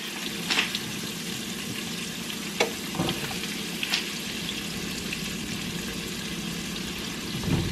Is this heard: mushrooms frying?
yes